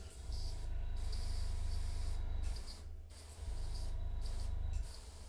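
Airbrush spraying Evil Sun Scarlet paint onto a Tyranid miniature, a steady close hiss of air in two long bursts with a brief pause between them, no talking.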